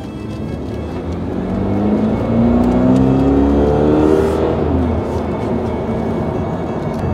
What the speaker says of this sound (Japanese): 君島、 はい、 レースカーですよ